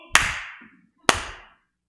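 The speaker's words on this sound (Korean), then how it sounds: "박수, 박수!" Two sharp, loud hand claps about a second apart, each ringing briefly in a reverberant church space during Friday worship, with no talk over them.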